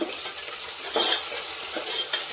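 Potatoes stir-fry and sizzle in a pan for palak pulao, a steady close hiss with scraping stirring strokes and no talk.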